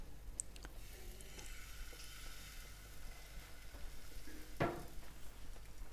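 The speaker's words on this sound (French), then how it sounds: "Je la mets à chauffer dans la poêle." A comfrey leaf dipped in crêpe batter fries in a hot pan with a soft, steady sizzle and a few faint clicks and one brief sharper crackle.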